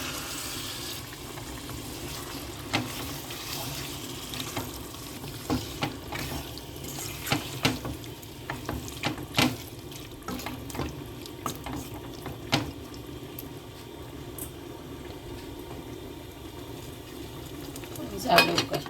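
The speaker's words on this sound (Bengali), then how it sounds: "মশলা কষি গেছে গিয়ে, মশলা কষা মানে তেল ছাড়ি দিয়ে যদি মশলা কষা হয়ে গেছে, এখন আমি তিলি ছাড়ি দিলাম।" Beef spleen dropped into oil with cooked-down spices, sizzling and frying with a steady hiss while a spoon stirs and knocks against the pan, and a voice talks over parts of it.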